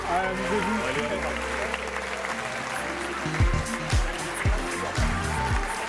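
Sustained audience applause fills a fashion show hall, a steady wash of clapping under thumping bass music, with a voice occasionally audible through it.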